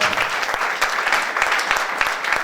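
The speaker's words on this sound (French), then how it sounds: "On acclame le Seigneur très fort." A church congregation claps loudly and continuously together in a full, sustained burst of applause.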